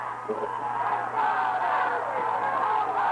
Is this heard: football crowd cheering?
yes